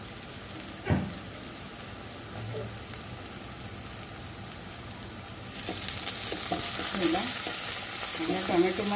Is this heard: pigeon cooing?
no